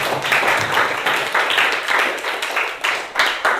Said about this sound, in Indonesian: Yang lain tepuk tangan dulu untuk Halif.